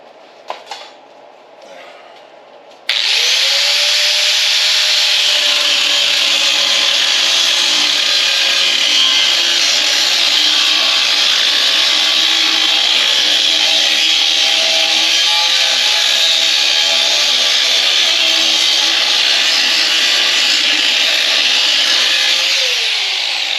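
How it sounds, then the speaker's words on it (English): After a few seconds of quiet handling, a grinder bites into the inside of an aluminum stock pot being built into a 50 gallon moonshine still. A loud, harsh, continuous metallic whine rings on for about twenty seconds, close and alone. "Let me grind in that."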